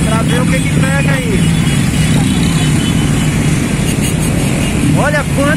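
Dense roar of many motorcycle engines in a large political motorcade, continuous and loud with passing revs, while people talk nearby and a helicopter is overhead.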